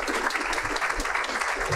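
An audience at a talk gives a round of applause, a steady wash of many hands clapping, fairly loud and continuous with faint voices beneath.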